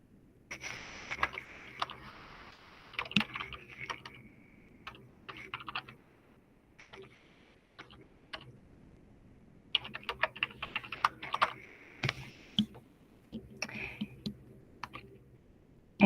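Typing on a computer keyboard into a search bar: bursts of quick, crisp key clicks with short pauses, close and moderately quiet over a low steady hum.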